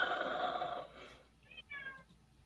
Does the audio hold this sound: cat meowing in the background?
yes